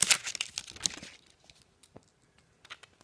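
Plastic toy packaging is torn and crinkled open close up, a loud burst of ripping and crumpling at first, then sparse faint rustles and crinkles.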